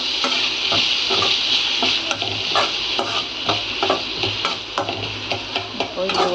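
Chopped large Bangalore tomato frying in a pan, a steady loud sizzle with repeated scraping and clacking as it is stirred throughout.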